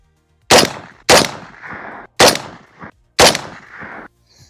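Four sharp rifle shots fired at a Thanksgiving turkey target on a shooting range, each a loud close crack with a short decaying tail, spaced about a second apart.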